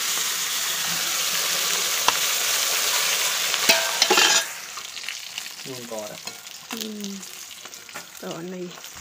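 Fish frying in a pan in a home kitchen: a loud, steady sizzle and hiss for about four seconds, then quieter crackling with a voice speaking over it.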